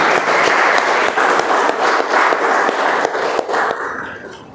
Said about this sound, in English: Once again, for a round of applause for Vineet, please.